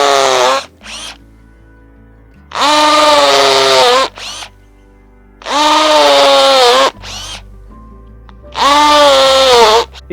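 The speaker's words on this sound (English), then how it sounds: "Simply attach it to the drill and then drill away." A power drill with a special bit drilling into a wooden log, whining in three long bursts, each with a harsh rising-and-falling grind, separated by short pauses and brief quick revs.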